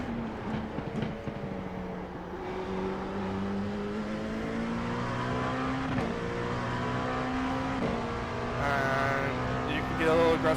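An LMP2 prototype race car at Sebring in the iRacing game holds full throttle, its engine note droning steadily and rising slowly in pitch, with a brief shift change and a higher revving whine near the end, under continuous talking.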